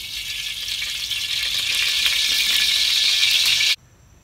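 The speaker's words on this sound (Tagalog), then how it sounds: "At mainit na yan, lagay na natin ng mantika." Cooking oil hitting a hot wok (kawa) for a Filipino-style laksa, giving a loud, steady hiss and crackle that builds and holds for several seconds, then cuts off abruptly.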